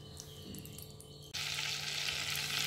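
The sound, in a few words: butter and oil sizzling in a hot wok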